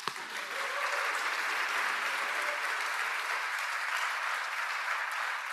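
Sustained applause from an audience at a patient engagement awards ceremony, a dense even clapping that starts abruptly and holds steady and loud throughout.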